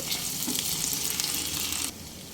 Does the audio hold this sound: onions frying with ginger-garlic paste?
yes